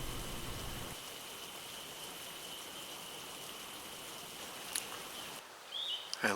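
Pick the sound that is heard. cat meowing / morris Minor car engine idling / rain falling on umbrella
rain falling on umbrella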